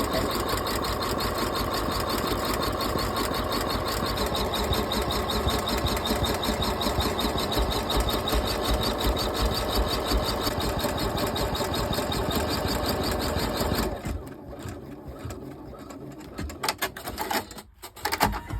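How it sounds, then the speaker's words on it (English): An embroidery sewing machine satin stitches an applique on a zipper purse, a fast, steady mechanical chatter that runs close and continuously before slowing and breaking into scattered clicks near the end. "Back on the machine, stitch out step 10, which will satin stitch and finish off the top of the applique."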